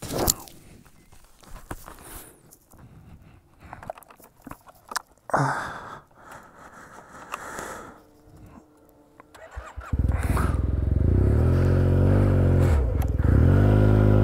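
A Yamaha T-MAX 530 scooter fitted with an Akrapovic exhaust fires up after some handling noises, then settles into a loud, steady idle that runs near and alone to the end.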